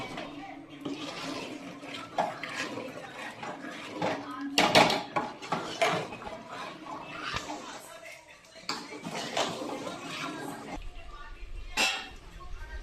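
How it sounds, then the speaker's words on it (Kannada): Chicken curry masala is stirred in a metal pot in a village kitchen, with irregular close scrapes and clanks of a spoon against the pot, and a voice talking in between. "ಇದನ್ನೆಲ್ಲ ಮತ್ತೆ ಮಿಕ್ಸ್ ಮಾಡ್ತೀವಿ"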